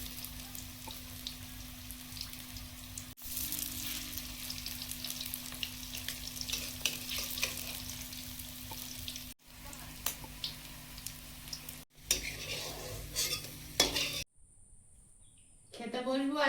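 Small prawn fritters frying in hot oil in a pan, a steady crackling sizzle heard up close with intermittent louder pops and scrapes, cut by brief breaks, with voices faintly in the background.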